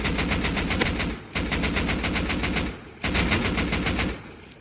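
Sustained automatic gunfire in the survival game Rust during a base raid, three loud bursts of rapid, evenly spaced shots, each running over a second, separated by brief pauses.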